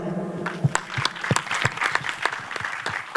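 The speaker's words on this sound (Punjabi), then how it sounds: "ਮੈਂ ਇੱਥੇ ਬੈਠਿਆ ਆਪਦੇ ਲਈ ਤਾੜੀ ਮਾਰ ਦੋ" An audience claps through the short stretch at a Punjabi film event, a dense, steady patter of many hands close by, with no talk over it.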